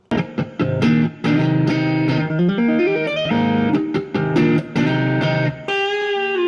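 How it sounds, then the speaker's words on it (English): Clean, twinkling guitar in the Midwest emo style plays bright, interlocking plucked melodies with quick note runs and brief gaps, steady and up close. "One of the most recognizable parts about Midwest emo is its guitar style. Some would like to call it the twinkling sound."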